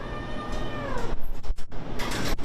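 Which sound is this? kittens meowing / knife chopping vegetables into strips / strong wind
kittens meowing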